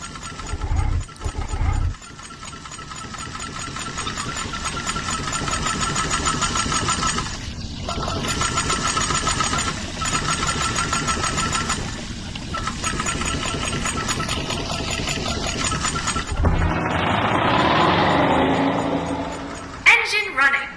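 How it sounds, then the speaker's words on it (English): Escape pod engine in the video game I Expect You To Die hums and churns continuously, with a brief burst near the start and a louder roaring swell toward the end. "The engine is engaged and we are starting our ascent."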